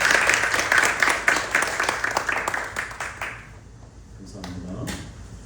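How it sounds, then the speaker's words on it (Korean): A church congregation at a worship service claps together in a full burst of applause that fades after about three seconds, giving way to someone speaking. "우리와 같은 박수 소리로 다시 한번."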